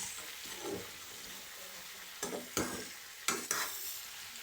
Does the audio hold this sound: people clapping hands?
no